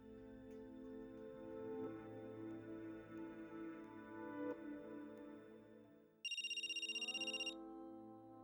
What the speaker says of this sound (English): I think my phone is ringing.